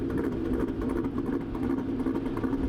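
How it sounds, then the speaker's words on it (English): Cammed Chevy SS V8 idling nearby, a loud, steady rumble with an uneven, choppy lope throughout and no talking. "You can hear that chop that it has."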